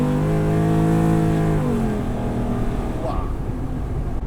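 A 650 hp 1985 Chevy S10 sleeper pickup roars close up as the engine revs hard for a burnout, then breaks into a harsh, rough broadband blast of spinning tires.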